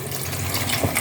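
Water is poured into a pot of vegetable biryani, a brief, steady gushing pour heard up close.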